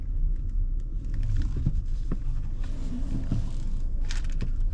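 A used Hyundai Avante CN7 with a manual gearbox on a test drive, heard from inside as a steady low engine and road rumble with faint rattles, no talking.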